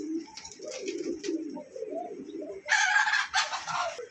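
Racer pigeons at a bird market coo in low, throaty rolling calls close by, and a rooster crows loudly partway through over the market background.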